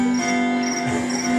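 A cricket-effect percussion instrument played live by a tribute band gives steady, bright rasping chirps in a short repeating pattern over sustained band tones.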